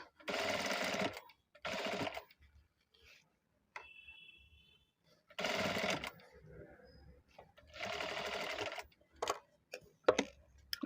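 Sewing machine stitching ready-made piping onto a blouse, several short bursts of rapid mechanical whirring separated by pauses, close and clear, with a faint thin tone in one gap.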